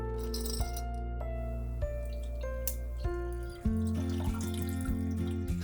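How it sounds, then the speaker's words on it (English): Ice cubes for a cold latte clatter and drip, with sharp rattling knocks and a louder tumble of ice near the end, heard close and without voices. "we gotta make sure we got the ice since we're making a cold latte for this"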